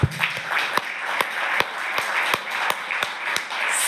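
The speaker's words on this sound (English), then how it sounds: "I'm going to give these two countries and all the countries that are struggling a big round of applause" An audience at an economic policy talk claps in unison, sharp, evenly spaced beats landing about every half second over a broad wash of scattered clapping, loud and close.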